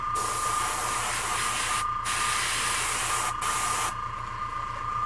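Masters G70 airbrush spraying with the air on, a steady close hiss of rushing air broken by two brief cutoffs, then continuing slightly softer.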